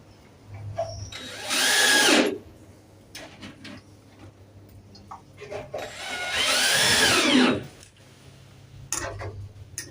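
Power drill driving screws into hinge plates of a homemade trackless train, heard as two sustained whining bursts separated by quieter handling clatter and taps.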